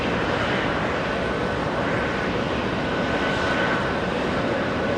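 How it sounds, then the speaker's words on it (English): A Qatar Airways Boeing 777 arriving at JFK after a long flight from Doha, heard as a steady, broad jet-engine roar that holds even and fairly loud throughout, with no voices. "And we go to the 777, Qatar Airways making an arrival."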